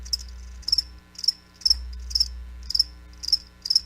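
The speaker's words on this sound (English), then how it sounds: "That's right, crickets." Crickets chirp in a steady rhythm of short, bright trills, about seven evenly spaced bursts, clear and close over a faint low hum.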